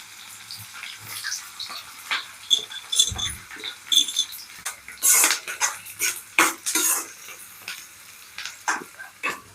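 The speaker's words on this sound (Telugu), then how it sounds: "సన్నగా తరిగి పెట్టుకున్న ఆనియన్స్. చూడండి నేను ఎంత సన్నగా అయితే కట్ చేస్తున్నానో" A knife finely chops onions on a board, sounding as a quick, uneven run of crisp taps and clicks at close range, mixed with light kitchen clatter and no talk.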